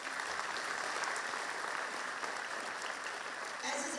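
A crowd at a gathering for young winners claps in sustained, dense applause, loud and even throughout the short stretch, with no distinct voices.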